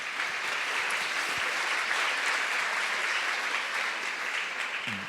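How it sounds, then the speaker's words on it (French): An audience applauds engineers who built the Deep Blue chess computer, with steady, dense clapping from a large crowd that holds even and fairly loud for the full stretch. "Je vous propose d'applaudir les ingénieurs qui ont inventé Deep Blue."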